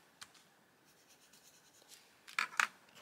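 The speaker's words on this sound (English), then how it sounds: "This can then sit over the top, and I'll mark that off so I can cut that." A pen or pencil marks a line on a paper sheet before cutting, faint, scratchy strokes at close range in a quiet room, with two brief sharper scrapes near the end.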